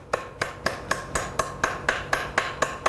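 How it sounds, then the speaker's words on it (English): A small hammer face strikes a metal shell being shaped and tuned, about eleven sharp, evenly spaced taps landing close and clear with no talk. "I'm using a smaller hammer face and pushing back, really emphasizing it"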